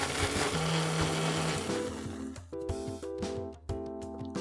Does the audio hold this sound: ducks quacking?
no